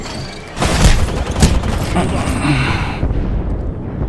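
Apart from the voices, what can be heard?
airstrike explosions in a video game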